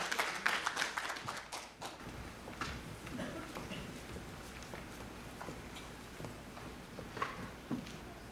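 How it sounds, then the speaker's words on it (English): An audience at a performance of drumming and Arirang gives warm applause, many hands clapping in a dense patter that is strongest at first and then settles into a steadier, thinner clapping. "Have a warm applause for the performers."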